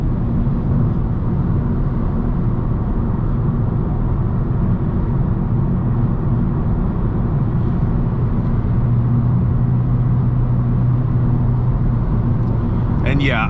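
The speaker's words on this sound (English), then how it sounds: "Let's put it back into sport, get the revs up a little bit." Engine of a 2022 Honda Civic Sport in sport mode, a steady loud drone heard from inside the cabin with a low hum that rises slightly in pitch toward the end as revs climb.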